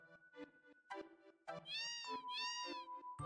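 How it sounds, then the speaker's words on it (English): A cat meowing in the post-apocalyptic game Fallout 76, several short meows followed by two longer, drawn-out rising cries, close and clear against a quiet background. "Kitty sound."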